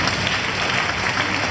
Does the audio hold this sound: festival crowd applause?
yes